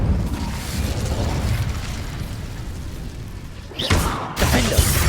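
Incendio fire spell cast in Hogwarts Legacy, a rumbling low burst of flame that swells and then breaks into two sharp, bright whooshing bursts near the end.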